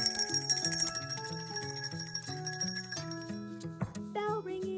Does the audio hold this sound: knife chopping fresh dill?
no